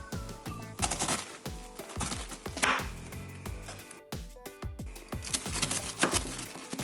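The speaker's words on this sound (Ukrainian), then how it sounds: "Розрізую спочатку навпіл, далі качан не вирізую, розрізую знову на кілька частин." A knife cuts a head of winter-storage cabbage into pieces, halving it and chopping through the core. Sharp, crisp chops hit the board repeatedly at an uneven pace, close up and fairly quiet.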